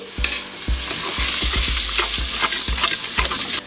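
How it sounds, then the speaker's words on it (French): Onions and spices are stirred in sizzling olive oil in a pot for harira, with a loud continuous frying hiss and repeated scraping strokes of the spoon close by. "On commence par l'huile d'olive. On va y ajouter les petits oignons, les épices. On mélange le tout."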